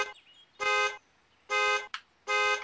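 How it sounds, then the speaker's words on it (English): A car alarm sounds in the Spintires off-road driving game, three loud, even bursts of a harmonic electronic tone about a second apart, with a short squeal between the second and third. "Now my car alarm goes off."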